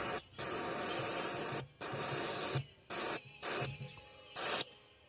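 An airbrush sprays candy paint onto a crackle crawfish lure in five short hissing bursts separated by brief gaps, close and steady, with no voices.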